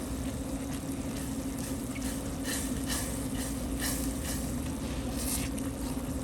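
Mushroom risotto stirred steadily in a pan, with a continuous soft scraping and gentle bubbling sizzle close by, low and even throughout with no talking.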